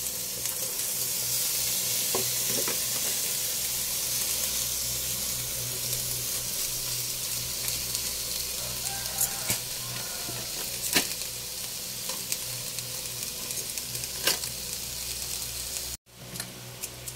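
Shrimp and vegetables sizzle steadily in a hot pan, a continuous frying hiss with occasional clicks and scrapes as the mix is stirred, ending with a brief drop near the close.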